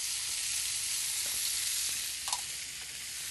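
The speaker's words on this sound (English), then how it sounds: "Now what we're going to do with that is just saute them until they get a little bit soft" Artichoke hearts and mushrooms sautéing in a hot pan, a steady bright sizzle with faint stirring scrapes, close and continuous without talk.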